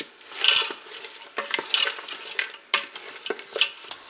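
Teriyaki sauce heats and sizzles in a pan while it is stirred; scraping strokes recur in an uneven rhythm over a soft, close frying hiss, with no voices.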